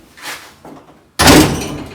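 A single loud, close slam of a 1970 Dodge Challenger's door, a car mid-restoration with frame rail work under way, comes after a couple of softer knocks and shuffles.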